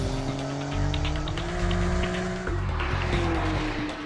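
A Porsche 911 GTS's turbocharged 450-horsepower engine with sport exhaust hums and rises through the revs during a 2017 test drive, a steady tonal drone that climbs and shifts pitch over several seconds at moderate volume.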